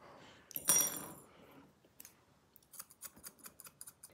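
Grooming scissors trimming a dog's fur, a sharp metallic snip followed by a run of quick, close, crisp clicks and cuts, quiet between strokes, with no talking.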